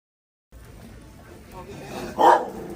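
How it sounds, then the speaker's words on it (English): A dog growls low at first, then lets out a sharp, loud bark near the end, close by, with voices faintly in the background. "Fake service dogs growling, lunging, trying to attack our legitimate service dogs"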